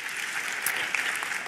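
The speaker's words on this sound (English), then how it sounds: "Yeah, you can clap for that." Church congregation applauding, a dense, even patter of many hands clapping at moderate volume with no speech, steady across the whole stretch.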